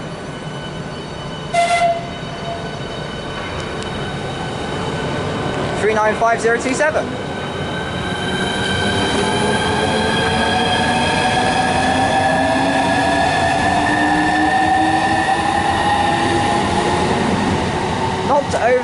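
An HS1 Southeastern train departs Stratford International in a train simulator, with a brief depot whistle near the start, a rising electric motor whine and a steady rolling rumble as it accelerates, while someone talks.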